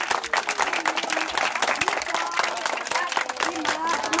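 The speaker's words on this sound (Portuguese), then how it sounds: "Vamos dar uma salva de palmas bem forte!" A crowd at a community gift and candy handout for children claps loudly and steadily, a dense crackle of many hands with voices and cheering mixed in close by.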